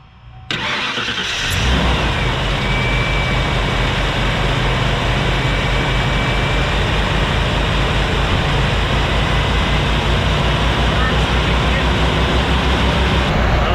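An old OBS Ford pickup's V8 cranks briefly, catches, and settles into a loud, steady idle that runs on without a break, the rumble close and continuous.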